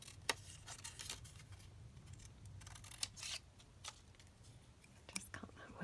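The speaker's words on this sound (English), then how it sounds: "Just cut that word out." Scissors cut a small paper word out for a card-making project, with sparse, faint, close snips and crisp clicks spread across a quiet room. Soft speech is heard in places.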